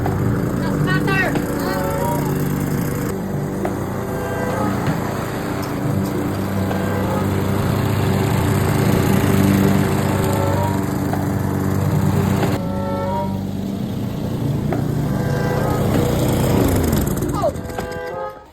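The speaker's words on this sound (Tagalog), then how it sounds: "Grass cutter!" A grass cutter runs steadily and loudly up close through the whole stretch, its engine drone constant, while people talk and shout over it.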